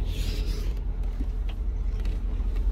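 A truck engine idles close by, heard from underneath the vehicle as a low steady rumble, with faint scraping and clicks of work on top.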